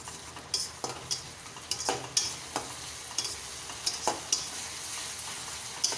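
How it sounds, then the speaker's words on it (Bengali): Spiced tangra fish gravy stir-fried in oil with a little water over a high flame, a steady sizzle broken by repeated spoon scrapes and clinks against the pan, close and fairly quiet, with no talking. "সামান্য একটু জল দিয়ে এবার আমি আর একটু কষিয়ে নেব।"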